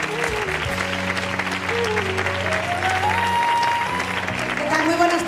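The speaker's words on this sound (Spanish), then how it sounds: "Un aplauso." Steady applause from the audience at an awards ceremony in Granada, sustained under music and a voice speaking over it.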